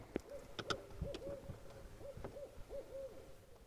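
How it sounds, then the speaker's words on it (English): Owl near a lake in the woods, giving repeated soft hoots in a loose rhythm, moderately close, mixed with scattered clicks and knocks from a boat and faint background noise. "The owl's right there, I think."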